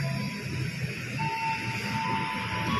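A KRL commuter train rolls past beside a walkway, a steady loud rumble with a sustained tonal whine running through it, close and continuous throughout.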